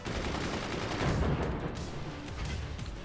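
Cannon and mortar fire in the video game Forts, rapid overlapping gunfire-like blasts and booms forming a continuous loud barrage.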